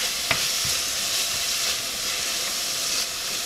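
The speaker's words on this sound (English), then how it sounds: "I should be able to fry these in that tablespoon of oil without it soaking it up" Green beans fry over high heat in about a tablespoon of oil in a hot pan, making a dense, close sizzling hiss with a few soft stirring clicks near the start.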